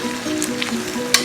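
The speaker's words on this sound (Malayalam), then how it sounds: "അപ്പോൾ ഇതൊന്ന് തിളച്ച് വന്നു തുടങ്ങിയിട്ടുണ്ട്" Mangalorean-style prawn ghee roast masala just coming to a boil in the pan, a soft close sizzle with a few small pops and spits over a short moment.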